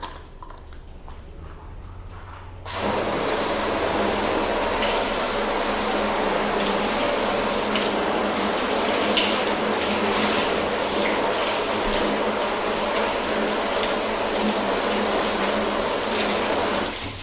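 Water sprays steadily over a car's ceramic-coated paint to rinse it after a quick wash. A continuous rushing hiss starts abruptly after a quiet start and holds loud and even to the end.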